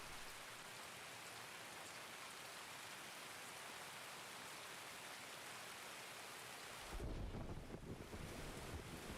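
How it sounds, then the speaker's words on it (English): Steady broadband rain hiss fills the scene in Escape from Tarkov on the Customs map, a dense wash that grows heavier and lower near the end, with no voices over it. "The rain, yeah, the rain's rough."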